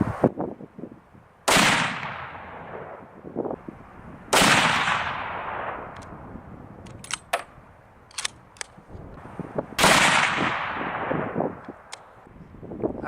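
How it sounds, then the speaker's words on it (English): .30-06 rifle shots with Sierra GameKing 180 grain bullets over IMR 4895 powder, three loud sharp cracks spaced a few seconds apart, each followed by a long rolling echo, with small clicks of handling between them. "We're shooting IMR 4895 with all these loads today."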